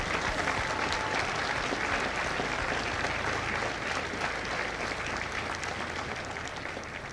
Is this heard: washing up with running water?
no